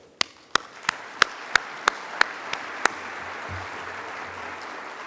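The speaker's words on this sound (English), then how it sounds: "Please join me in a big round of applause for all the award winners." Slow, evenly spaced handclaps, about nine single claps at a steady beat, sound for award winners at a corporate excellence awards ceremony, then stop. A faint low rumble follows.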